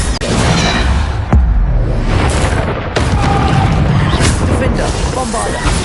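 The Bombarda blasting spell from Hogwarts Legacy bursts in loud, close booms with whooshing magical effects amid continuous combat noise, while a voice calls out spell names.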